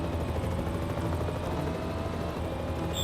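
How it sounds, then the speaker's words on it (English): An armed helicopter in a Davilex Knight Rider video game makes a steady, loud rotor drone with rapid blade chop that holds throughout without a break. "That helicopter is heavily armed."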